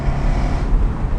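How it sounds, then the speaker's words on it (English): Jaguar F-Type SVR Convertible exhaust roaring with a deep, steady low rumble that holds loud and continuous throughout, close by with some wind buffeting. "my God, that exhaust,"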